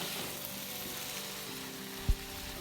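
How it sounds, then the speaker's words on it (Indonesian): Eggplant stir-fries briefly in a pan with aromatic spice paste, giving a soft, steady sizzle broken by a single brief knock near the end. "Kemudian kita masukkan terongnya ya. Kita tumis sebentar aja biar agak layu."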